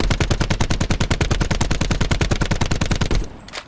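Rapid automatic gunfire in the video game Call of Duty Blackout hammers out a long, evenly spaced burst of loud, close shots, roughly a dozen per second, then cuts off near the end.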